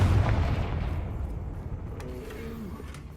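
A Confringo fire spell explodes in Hogwarts Legacy with a loud, booming burst at the start. It decays into a fading rumble, and a few small crackles follow.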